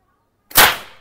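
A manual nail gun fires a nail with a single sharp, loud bang and a sudden attack, followed by a brief ringing decay. No other sounds around it.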